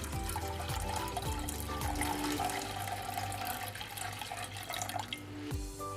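Clean water pouring steadily into a cooking pot for a Japanese-style soy-simmered salmon head, a continuous moderate splashing stream that cuts off near the end.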